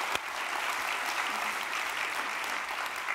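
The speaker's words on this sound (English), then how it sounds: "I think that deserves a round of applause." An audience's round of applause carries on steadily at a moderate distance, an even wash of many clapping hands with a single sharp knock near the start.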